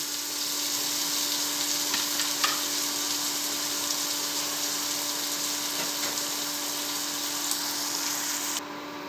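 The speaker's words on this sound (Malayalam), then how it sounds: "അത് നല്ലൊന്ന് ഫ്രൈ ആവട്ടെ. നമുക്ക് ഇത് ഫ്രൈ ആവട്ടെ." Crushed garlic and ginger frying in a pan at a village cooking setting, a steady close sizzle throughout with occasional faint stirring clicks, no talking.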